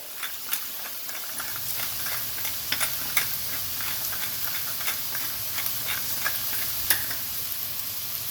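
Jumbo shrimp and king mushrooms with ground pepper being stirred in a hot pan, steady sizzling hiss under repeated soft scraping and tapping of the utensil, no talk.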